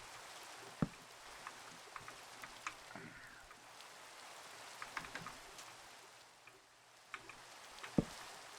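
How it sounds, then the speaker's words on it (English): Steady rain ambience in the Minecraft video game, a soft continuous patter with scattered sharper drip ticks, heard alone without talk. "the ambience of the rain"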